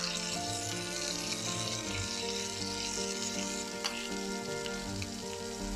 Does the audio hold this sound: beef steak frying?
yes